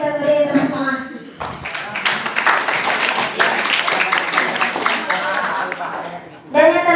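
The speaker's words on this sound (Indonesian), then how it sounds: "kita beri tepuk tangan" An audience at an evening Ramadan prayer gathering breaks into several seconds of scattered clapping. A voice speaks before the applause begins and again as it fades.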